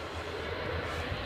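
Turboprop engines of an ATR 72 drone steadily at a distance on approach at a windy airport, a low, even rumble with no break.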